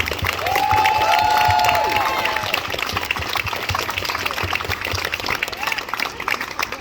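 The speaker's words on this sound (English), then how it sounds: "let's get a round of applause for all the youth who are here today" A crowd at a Love over Hate rally and march in Mountain View breaks into sustained applause and cheering for the young people present, with a voice calling out over the clapping at first before steady clapping continues.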